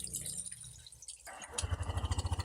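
A motorcycle engine idles with a steady pulsing throb while radiator coolant drains out, a faint dripping and trickling heard before the engine note rises and settles into a rhythmic chug.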